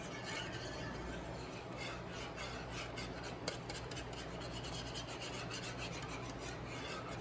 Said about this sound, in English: You want to whisk it so it doesn't stick to the pan.